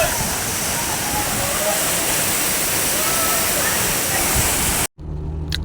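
Bhalepung waterfall at Tippi, Arunachal Pradesh, roars as a steady, loud broadband rush of falling water, cutting off abruptly near the end to a brief quieter moment with low rumble.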